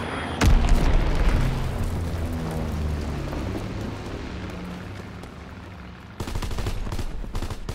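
Heavy bomb blasts and gunfire in a Call of Duty: WWII battle: a sharp boom hits early, followed by a long rumbling roar with scattered shots, then a second burst of loud crackling fire near the end.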